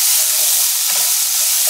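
Tomato paste sizzles steadily in a pot on a gas stove over medium-low heat, a loud close continuous hiss with a soft scrape of stirring partway through.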